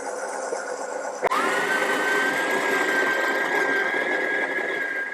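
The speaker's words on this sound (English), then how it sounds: "So I'm going to grind some beans in there." An espresso coffee machine's built-in grinder grinds espresso beans: a sudden start into a steady, loud whirring whine that holds evenly for about four seconds.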